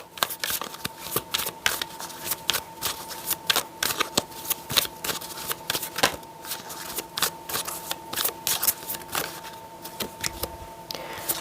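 Tarot cards being shuffled and laid out, with rapid riffling bursts and crisp flicks and taps close to the microphone, continuing in quick irregular clusters.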